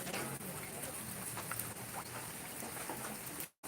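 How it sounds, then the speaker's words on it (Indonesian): Steady rain falls in the rainy season, a dense, even patter that holds for several seconds before cutting off briefly near the end. "Lagi musim hujan. Menunggu hujan teduh."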